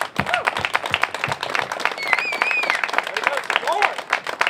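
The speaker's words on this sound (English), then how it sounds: "The riders, I think, owe them a great round of applause." Crowd applauding a charity ride's support team at a motorcycle brotherhood ride gathering, scattered individual claps tapping unevenly over a few seconds, with chatter and a whistle-like tone underneath.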